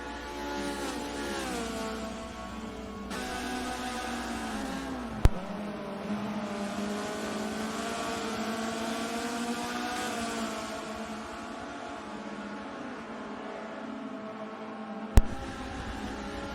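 Race cars drone around the Nurburgring in a sim race, a loud sustained engine note rising and falling in pitch as gears shift, with two sharp clicks breaking through.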